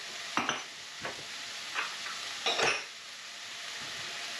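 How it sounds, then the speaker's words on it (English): Vegetables for a veggie bolognese sizzling steadily in a pan, with several distinct bursts of scraping and stirring as a utensil pushes them around, moderately close and without talk. "Just letting things fry off and soften up"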